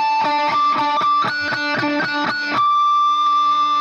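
Pinch harmonics picked on an electric guitar through distortion, a run of about ten quick, bright squealing notes in rhythm, then one note left to ring out alone. The tone is loud and close with no talking.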